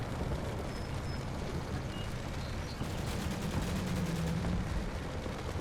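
Gunfire and explosions fill a battle in the video game Combat Mission: Cold War, a steady, dense wash of distant shots and rumble that keeps going without a break.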